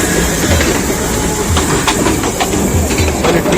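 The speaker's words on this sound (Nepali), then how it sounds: "अहिले ठिकै प्लेटफर्ममा आइपुग्यो तपाईँको दार्जिलिङ हिमालयन रेलवेको स्टिम इन्जिन" A Darjeeling Himalayan Railway steam locomotive rolls into a station platform, a loud, continuous rumble with rhythmic wheel clicks and clanks on the narrow-gauge track and no talk.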